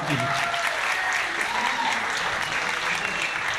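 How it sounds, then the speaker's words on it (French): Sustained audience applause fills a hall at the Miss Villeneuve d'Ascq beauty pageant, dense steady clapping from a crowd with a voice faintly underneath. "sur les applaudissements du public"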